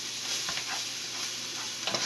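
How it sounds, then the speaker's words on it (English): A vegetable base with moose meat sizzles softly in a pan, a steady frying hiss broken by a couple of faint stirring scrapes. "I'm just going to give that a quick fry"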